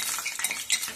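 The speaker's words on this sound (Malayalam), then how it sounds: "തവി കൊണ്ട് അതൊന്ന് പയ്യെ ഇളക്കി മാറ്റണം" A ladle gently stirs potato bonda frying in hot oil, soft scraping and light metallic clinks over a faint sizzle, in one short close burst.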